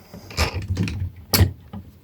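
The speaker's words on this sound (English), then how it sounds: "Really clicky ratchets." Ratchet joints of a Transformers SS86 Devastator figure being posed: a few quick, close clicky bursts and plasticky clacks, spaced irregularly.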